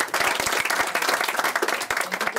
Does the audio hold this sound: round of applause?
yes